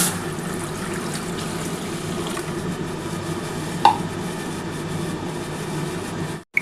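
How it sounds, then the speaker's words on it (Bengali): Water poured into a kadai holding sugar for gulab jamun syrup, a steady, even wash of pouring and trickling lasting several seconds, with one brief metallic clink midway. "কড়ার মধ্যে আমি জল দিয়ে দিচ্ছি"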